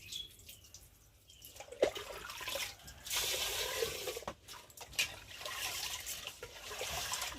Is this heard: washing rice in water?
yes